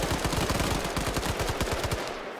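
Rapid automatic gunfire from an Arma 3 infantry firefight, a fast steady stream of roughly twenty sharp cracks packed into about two seconds, loud and close with no pauses.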